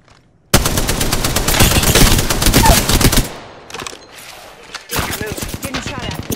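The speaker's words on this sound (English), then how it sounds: "Getting shot at." Loud automatic gunfire in Apex Legends rattles off in a long rapid burst, falls away to quieter scattered shots and noise, then returns as another rapid burst.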